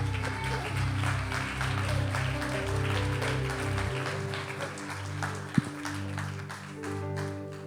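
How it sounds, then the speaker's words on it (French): Church congregation clapping for a woman called to the front, a moderate round of applause under sustained organ or keyboard chords, with a brief sharp knock partway through. "On peut applaudir Suzanne."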